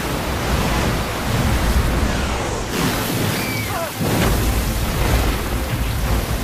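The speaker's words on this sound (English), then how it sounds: "a great flood flashed forth with great force and washed away all living things" Great flood waters rush with a loud, steady roar like heavy surf and pouring rain, with a short dip midway before the torrent swells again.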